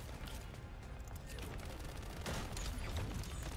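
Dense, continuous gunfire fills a firefight in the shooter game The First Descendant, steady rapid shots layered with bursts and impacts throughout, no pauses, with faint talk buried underneath.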